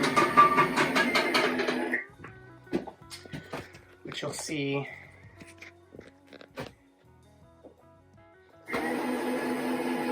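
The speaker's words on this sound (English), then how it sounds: "the slide goes out and the rollers roll" An RV slide-out room extends on its rollers with a mechanical motor hum at the start and end, and scattered clicks and creaks in between. A voice talks over part of it.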